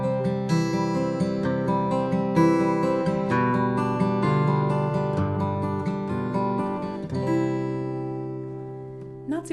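Fingerstyle classical-style guitar étude played alone in a steady sixteenth-note pattern with simultaneous notes, close and clear, with plucked notes ringing over sustained bass tones and fading out at the end.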